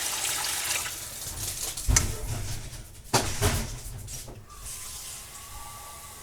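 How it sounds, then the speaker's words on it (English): Water pours and splashes into a cooking pot for a hotdog chili mac pantry meal, a steady rushing stream with a couple of louder gushes, heard up close without talk. "Add our water."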